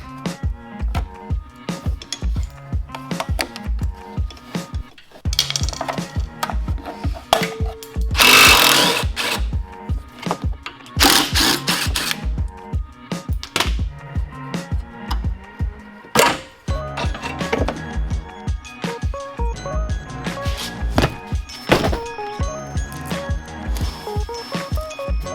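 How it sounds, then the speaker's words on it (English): Stock oil cooler being unbolted from a motorcycle, a long run of close metallic clicks, ratcheting and clattering knocks with short bursts of louder tool noise, irregular and busy throughout, no talk. "The stock cooler is super easy to pull off. There is a bolt there, 2 bolts on the inside,"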